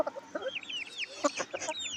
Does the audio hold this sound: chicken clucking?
yes